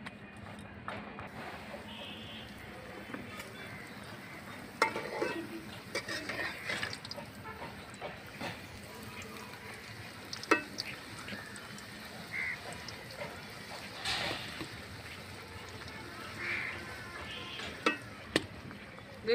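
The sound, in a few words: luchi puffed bread frying in hot oil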